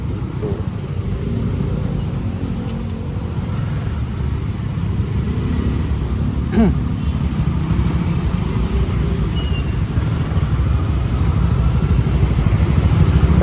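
A motorcycle rides through city streets of Bandung at night, its engine a steady low drone with road and wind noise and passing traffic throughout.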